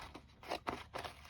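Scissors snipping through fabric, a few quiet closely spaced cuts with soft crunchy blade strokes, faint and near.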